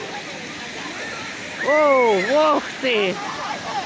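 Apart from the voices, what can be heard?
water spraying from Crown Fountain in Chicago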